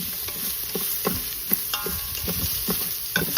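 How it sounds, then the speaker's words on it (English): A spoon stirs rice mixed with onion and tomato in a hot pan for Mexican-style rice, giving steady frying sizzle broken by scraping, tapping strokes at an uneven rhythm, close and alone. "I'm going to stir this up and then do a nice even flat coat so it will start browning"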